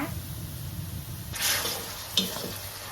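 A spatula scrapes and stirs a sweet cane-sugar filling for Thai khanom thian as it cooks in a wok, with a soft bubbling sizzle and a brief clank of utensil against metal.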